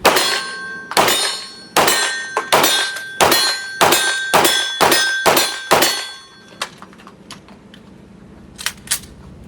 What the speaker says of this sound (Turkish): bir de gong sesini duyalım diyenler için